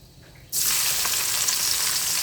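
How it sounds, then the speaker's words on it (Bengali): Chopped onions land in hot oil already seasoned with cracked cardamom for a country chicken curry. After a quiet start, a sudden loud, dense sizzle bursts up and holds steady, close and alone. "পেঁয়াজ কুচিকে দিয়ে দিয়েছি কিছুক্ষণ নেড়ে ভেজে নেব"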